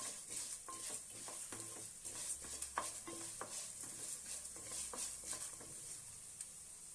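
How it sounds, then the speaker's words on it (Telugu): Coriander seeds dry-roast in a pan while being stirred, making a close, irregular rattle of light scrapes and clicks over a faint background sizzle, with no speech. "ధనియాలు వేగుతున్నప్పుడే ఎండుమిర్చి పదిహేను నుండి ఒక పద్దెనిమిది వరకు నేను వేసుకున్నాను"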